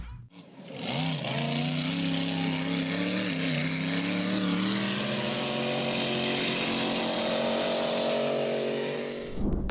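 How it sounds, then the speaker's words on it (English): A jet-engined hydroplane roars continuously at high power, a loud sustained whine with shifting engine tones, fading at the end. "The answer is a jet-engined hydroplane."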